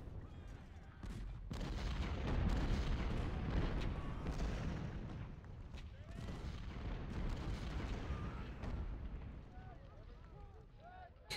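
Cannon and artillery fire in Ultimate General: Civil War, the Battle of Cold Harbor, with repeated heavy booms and rumbling volleys that keep overlapping into a dense, continuous barrage.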